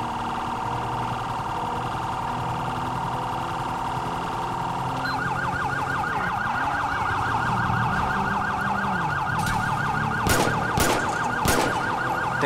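Police car sirens in GTA V wail continuously, shifting from a slow wail to a rapid yelp pattern as several cars join the chase. Sharp bangs of gunfire break in near the end, and the engine noise stays loud throughout.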